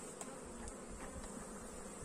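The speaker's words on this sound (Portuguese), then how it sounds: "Agora vamos botar essas abelhas todas para baixo." Honey bees (Apis) buzz in a continuous, even drone as they are moved down into a split hive, with no voices over the steady hum.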